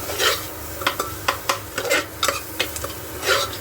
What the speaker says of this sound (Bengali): ভালো করে পেঁয়াজটাকে ভাজা পুরো করে নিতে হবে এটার সাথে